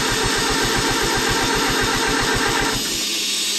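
An Oliver 550 tractor engine cranks and fires with a rapid, rhythmic chugging, loud and close, then cuts off sharply near the end.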